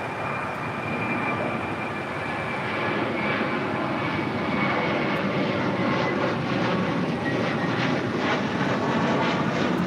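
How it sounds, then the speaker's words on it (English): An American Airlines Airbus A321 takes off at LAX, its jet engines roaring in a loud, sustained rumble and whine that holds steady for about ten seconds. "That was American 1994 taking off to Dallas Fort Worth on an A321."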